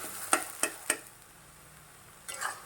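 Jaggery mixture being stirred in a pan over a low gas flame: three sharp spoon scrapes in quick succession, a quiet pause, then a softer scraping swirl near the end.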